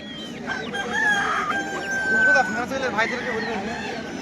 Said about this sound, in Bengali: অনেকগুলো মুরগি এসছে বন্ধুরা হাটে আজকে। চারদিকে মুরগি দেখতে পাবেন।